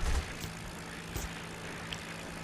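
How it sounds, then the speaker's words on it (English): Japanese aircraft over Pearl Harbor, Hawaii, on a sunny December 7th morning make a continuous, steady engine drone with a low, even hum that fills the whole stretch. "But the drone of Japanese aircraft would soon fill the sky shortly before 8 a.m."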